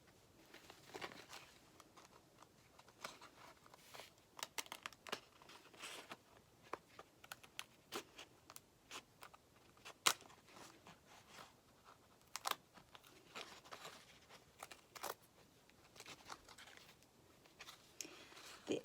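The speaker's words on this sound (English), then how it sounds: "The edges where there isn't any glue are going to be, of course, a lot easier to cut with your fabric scissors." Fabric scissors snip through a glued doll wig cap, giving faint, irregular crisp clicks and scrapes spread across the stretch, quiet and close with no talk.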